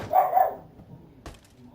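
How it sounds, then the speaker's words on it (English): A pet dog barks once with a short, loud yelp near the microphone, then a faint second sound follows against a quiet background. "That's my stupid dog that will not shut up."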